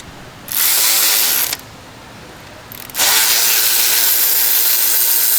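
A 10mm ratchet with a built-in universal joint working oil pan bolts under a 2015 Volkswagen Jetta, two bursts of rapid, loud, close clicking, the second running continuously to the end.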